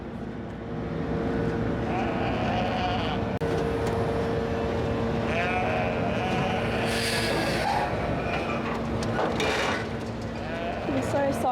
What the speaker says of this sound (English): They're just sheep.